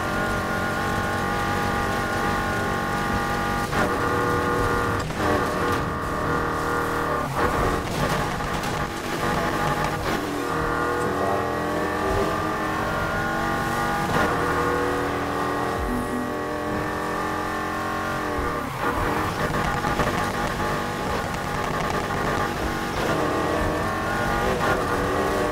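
A Subaru's engine roars steadily at high revs through a race in the video game Need for Speed Heat, with repeated gear-shift dips and faint tire squeals, loud and continuous without talk.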